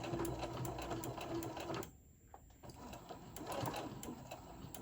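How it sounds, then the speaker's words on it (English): A sewing machine stitching a casserole-size Christmas hot pad runs in close, quick whirring bursts with rhythmic needle clicks, pauses briefly, then resumes. "I'm just gonna put my machine and just kind of go over, give it a few stitches."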